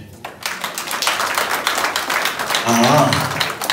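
Church congregation at a mission day gathering clapping for the Lord, steady rapid applause from many hands filling the hall, with a voice speaking over it.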